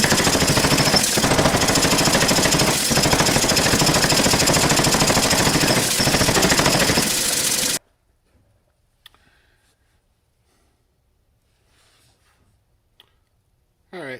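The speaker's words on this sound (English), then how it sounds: "I'm going to weld this, and then I'm going to draw it in this dimension a little bit" Heavy, rapid mechanical pounding while a steel bar is forge welded at a smithy, loud and continuous for about eight seconds, then it stops abruptly into near silence.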